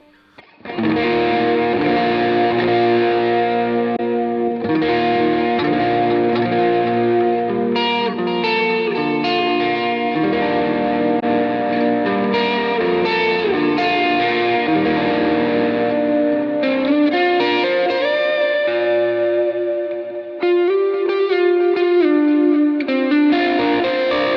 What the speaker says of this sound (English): actually turning it into distortion mode, higher gain mode